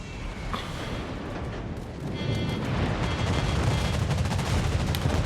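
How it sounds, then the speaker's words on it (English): Heavy gunfire and bomb explosions around the Yamato battleship in a World War II naval battle game set at Midway, a dense, continuous rumble of booms and shots that grows louder halfway through. "bombs on the Yamato should be pretty good. You've had some nice bombing runs."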